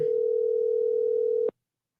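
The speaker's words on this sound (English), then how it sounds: "Pick up the phone, son." A steady telephone ringback tone on a call nobody answers holds for about a second and a half, loud and alone, then cuts off abruptly into silence.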